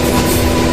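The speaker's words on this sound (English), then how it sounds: "The train slowed." A train rumbles past as a sound effect in a horror story, a loud, close, continuous rolling drone with low rattling.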